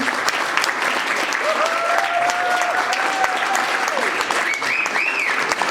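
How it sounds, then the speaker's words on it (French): Sustained audience applause fills a student-life partners' meeting as elected students are cheered onto the stage, steady and dense from start to finish, with a voice and some brief tonal calls rising above it midway. "maintenant c'est le moment d'applaudir et de les encourager à venir sur scène"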